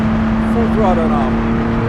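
A land speed car's engine roars at full throttle with wheel spin, a loud sustained drone with a steady pitch, heard from inside the car while someone talks over it.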